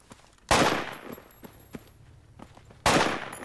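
Gunfire in the military shooter game Project Reality: two loud, sharp bursts of rapid shots, separated by a quieter stretch with light scattered knocks.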